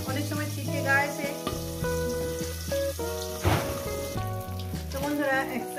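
Parshe fish sizzle as they fry in hot oil in a covered pan, a steady crackling hiss running under loud background music with sustained tones.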